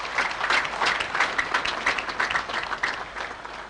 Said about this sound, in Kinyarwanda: Aba b'episkopi ni mubampera amashyi